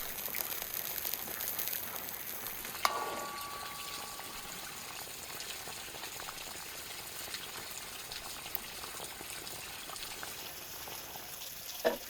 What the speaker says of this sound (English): I give it all a good stir while the broth is cooking.